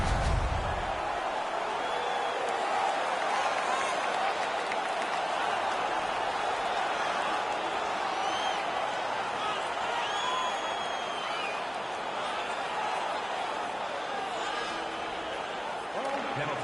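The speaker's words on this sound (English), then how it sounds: "The crowd is all over them right now." Steady roar of a hockey arena crowd in the NHL 18 video game, a broad wash of noise holding level throughout, with occasional faint whistles or shouts riding on top.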